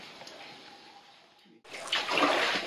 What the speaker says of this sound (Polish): Ładnie woda płynie.